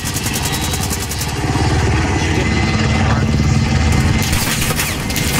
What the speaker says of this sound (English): attack helicopter is gonna be right fucking above me